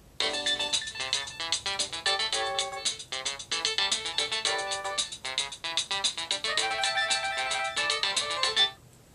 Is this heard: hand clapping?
no